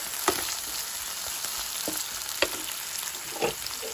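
Tomato pieces dropped into a hot frying pan for a Bhutanese-style broccoli dish, giving a steady soft sizzle with a few brief stirring clacks, fairly close and alone without talk.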